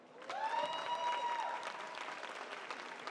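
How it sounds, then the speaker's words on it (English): A convention panel audience claps and cheers in a sustained round of applause, with a few whoops riding over the dense clatter of hands before it thins out. "Round of applause."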